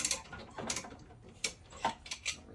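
A ratchet works loose the shackle bolts on a lifted Astro van, giving close, moderately faint clicking pawl strokes in short irregular bursts against a low background rumble.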